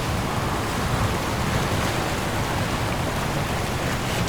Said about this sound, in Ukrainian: дує вітер і починається дощ. Корабель розхитує все більше і більше. Здається, це шторм.